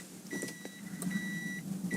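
A 2010 Subaru Impreza WRX STI's ETC card reader emits a few short high beeps in a repeating pattern, warning no card is inserted, faint against a low cabin hum.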